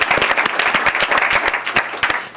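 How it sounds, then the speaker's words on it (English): Brisk applause from an audience at a school district board meeting, dense individual claps heard up close and continuing steadily for a couple of seconds. "Let's give him a round of applause"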